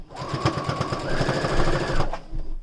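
A sewing machine runs steadily for a couple of seconds, stitching a fabric face mask, its rapid mechanical needle clatter loud and close, slowing briefly near the end.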